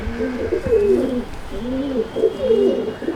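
Close, loud cooing from pigeons in a home loft comes in repeated rising-and-falling throaty phrases, several birds overlapping without a pause and no voices.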